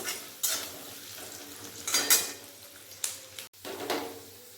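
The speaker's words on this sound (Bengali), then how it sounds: "গাজর হালকা করে ভেজে নেব" Chopped carrots lightly frying in a pan for vermicelli pulao, with soft bursts of sizzle and scraping as they are stirred, a few clinks of utensil on metal, and no talking.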